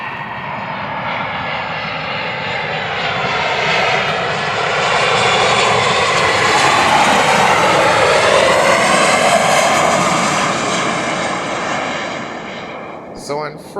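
A Spirit Airlines jet arrives at Montego Bay, a loud steady engine roar that swells and then fades as the plane passes, with a person talking over it.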